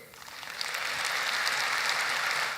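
A concert audience in a hall with a balcony claps, the applause swelling in over the first half-second into a steady, moderately loud wash of many hands that continues without speech.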